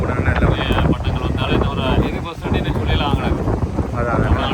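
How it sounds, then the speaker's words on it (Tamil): Strong wind buffets the microphone at an international kite festival in Valvettithurai, a steady loud roar and rumble running through the whole stretch, with crowd noise and voices mixed beneath. "ஆனால் காற்று நல்லா இருக்குது."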